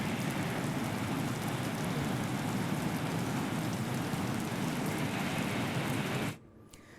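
Heavy rain pouring down in a dense, steady hiss that holds evenly for several seconds, then cuts off abruptly near the end, leaving near silence.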